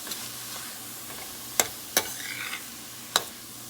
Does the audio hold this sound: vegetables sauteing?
yes